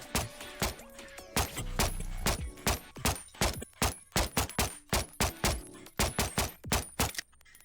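Pistol fire from a Staccato XC mod in the VR game Bonelab: a rapid string of sharp, loud gunshots with a metallic clatter, fired in quick bursts with brief gaps.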